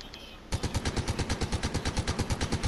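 Rapid automatic gunfire in Fortnite bursts in loud and close after a brief quiet lead-in, firing in an even, fast rhythm of repeated shots until the end.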